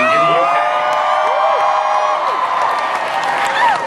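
A large Comic-Con panel audience at a Doctor Who 50th anniversary event cheers, whoops and applauds loudly, a sustained roar of many voices with scattered high shouts throughout.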